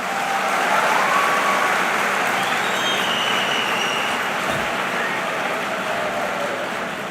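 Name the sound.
audience clapping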